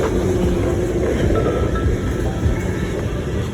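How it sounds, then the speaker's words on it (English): A train rumbles past nearby with a loud, steady roar and rattle, heard outdoors along a running route with wind buffeting the microphone and no talk. "Here's a train."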